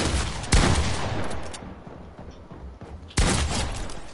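Rapid gunfire from a video game fills the stretch, with loud bursts and sharp reports at the start and again near the end over continuous shooting, close and dense, without talk.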